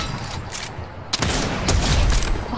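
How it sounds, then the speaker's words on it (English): Video game gunfire erupts in a dense, loud burst of overlapping shots and booms, with sharp cracks near the middle and a sustained barrage continuing to the end, no speech over it. "They're shooting at us now."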